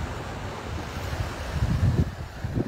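Calm ocean water laps at the shore on Siesta Key Beach in Florida, a soft, low wash of small waves mixed with wind noise, fairly quiet and without voices.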